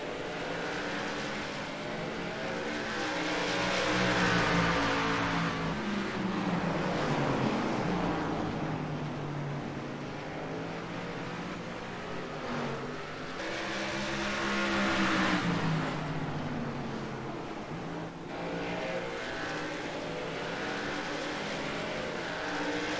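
Race cars roar around the Thompson track in an iRacing Pro Series sim race, engine drones rising and falling as cars surge and pass, loud and continuous with no talk.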